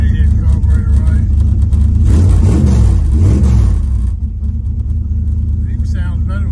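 Revving V8-style engine of a 1966 Plymouth after a timing adjustment, a steady loud low rumble with a rising and falling rev in the middle, then settling back to idle, with people talking over it.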